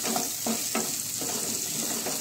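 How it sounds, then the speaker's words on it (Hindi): Chopped onions fry with a pinch of salt as they caramelize for veg pulao, giving a steady close sizzle broken by a few soft stirring scrapes, with no talking. "ये प्याज में हल्का सा क्रिस्पी कैरमलाइज हो जाए तब तक के भूनती हूँ"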